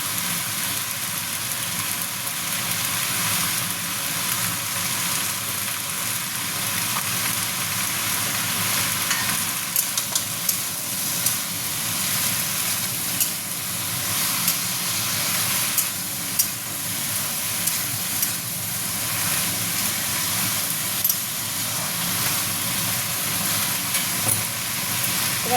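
Vegetables frying in a pan for a vegetarian mixed-vegetable dish give a steady hissing sizzle, broken by light scraping stirs and small clinks, close and continuous for the whole stretch with nobody talking.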